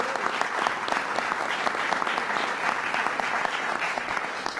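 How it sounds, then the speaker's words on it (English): Steady, enthusiastic audience applause for New York lieutenant governor Bob Duffy at an announcement on the passage of the Marriage Equality Act, with dense clapping filling the whole stretch. "give a big round of applause to Bob Duffy"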